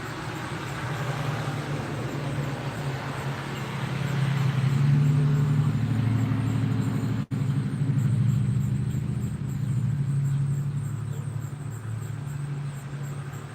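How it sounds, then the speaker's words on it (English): Road traffic passing through a small town in the afternoon: a steady low engine rumble that swells as a vehicle nears midway, then eases off, with more cars continuing faintly in the background. "That afternoon traffic picking up."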